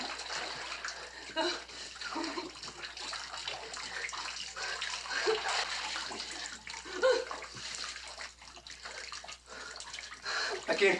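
Water rushes and splashes steadily as it floods in and rises around trapped people in a dramatic scene, a continuous noisy wash with scattered splashes, with voices in the background.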